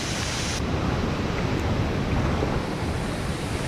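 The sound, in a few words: waterfall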